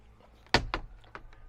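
Driver's side door of a Tesla Cybertruck opening: a sharp mechanical thunk followed by a second clunk and a couple of lighter clicks, close and distinct against a quiet background.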